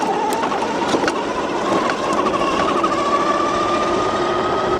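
A 4000W Tuttio ICT electric bike ridden on throttle over bumpy ground, giving a steady loud motor whine that rises slightly in pitch over wind roar and road noise, with a few brief rattling knocks from the suspension.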